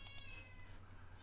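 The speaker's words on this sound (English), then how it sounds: "And that's a cat you hear." A single faint cat meow, brief and soft, over a quiet low hum.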